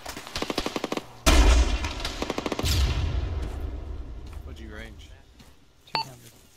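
A rocket launches at a BMP armored vehicle in a video game: a loud, sudden blast with a long rumbling tail, preceded and followed by rapid bursts of gunfire, while voices talk over the action.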